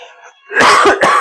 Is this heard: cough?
yes